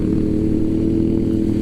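A 390 motorcycle engine and exhaust on a group ride produce a loud, close, steady droning rumble that holds level throughout without any speech.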